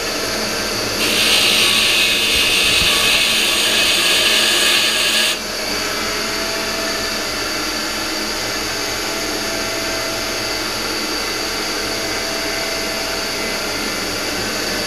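A finer buffing wheel polishes parts during a 1966 Ford Galaxie 500 convertible restoration. It gives a loud, high whirring grind for about four seconds, then drops back to a quieter motor hum.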